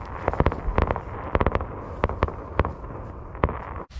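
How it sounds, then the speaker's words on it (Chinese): Fireworks burst outside on a freezing winter night near a camper van, a rapid irregular string of sharp cracks and pops at moderate distance, with no one talking. "刚想做饭，突然放起了烟花来了，"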